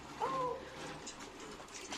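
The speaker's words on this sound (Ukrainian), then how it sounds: "На даху сидять голуби." A single soft coo from pigeons on a roof sounds briefly near the start, faint against a quiet outdoor background with distant murmuring, in Kharkiv's Northern Saltivka.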